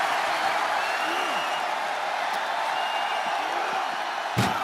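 Steady roar of a wrestling arena crowd in WWE 2K25, a dense wash of cheering and applause that holds level throughout, with a sharp impact near the end.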